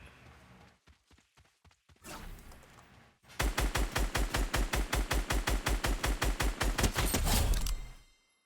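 Rapid automatic gunfire from a Fortnite gun-game match, with sharp evenly spaced shots ringing out loud and close for several seconds after a few quieter earlier noises.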